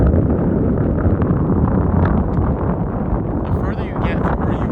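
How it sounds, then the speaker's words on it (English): Heavy wind blasts across the microphone outdoors, a loud continuous low roar that dominates from start to finish, with faint voice traces underneath. "sorry, it's a bit windy"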